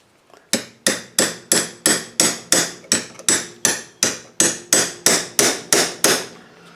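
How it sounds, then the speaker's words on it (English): A toy hammer taps a bicycle pedal's metal tabs in a steady series of about fifteen sharp, close knocks at an even half-second rhythm, each ringing briefly before the next strike. "Using a bit of a toy hammer here, I shouldn't be."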